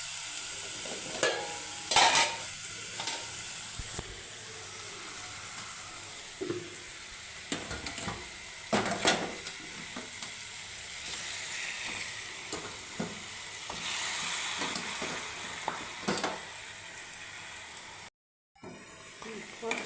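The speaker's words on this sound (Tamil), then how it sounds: "சிக்கனை நல்லா இஞ்சி பூண்டு இதில் நல்லா வறுத்துடுங்க" Chicken frying in oil with ginger, garlic and tomato masala for a Chettinad chicken curry gives a steady, close sizzle. A spoon scrapes and stirs the pan at intervals throughout, and a brief dropout comes near the end.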